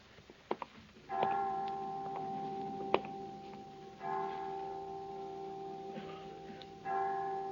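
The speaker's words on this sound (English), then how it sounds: "I didn't know the children's home had chimes." Chimes in a children's home striking five o'clock, with clear ringing tones that sustain and overlap, each strike arriving about every three seconds, preceded by a few sharp knocks.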